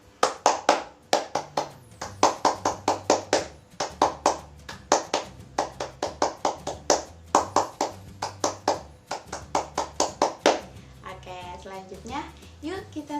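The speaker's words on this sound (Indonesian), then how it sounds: "Bunda akan mengajak Kak dan Teteh untuk kita bertepuk pramuka dulu ya" Pramuka scout rhythmic clapping, the patterned "tepuk pramuka" led for children, with sharp claps in repeated grouped bursts and pauses, accompanied by chanting voices, ending with brief speech.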